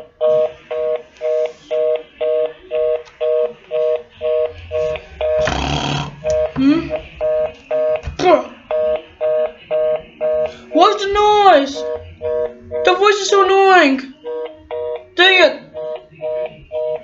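A toy telephone sounds a repeating on-off ring or dialing tone in regular pulses throughout, loud and close, while a voice speaks and squeals over it in the middle and later.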